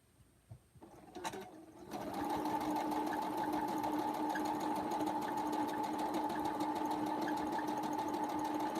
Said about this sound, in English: Hopefully the sewing machine's not too loud on the iPad.